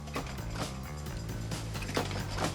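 Zippo lighter outer case halves and hinges ride in welding braces on a moving factory table, a continuous clanking, ratcheting mechanical rattle with repeated metallic clicks, close and steady.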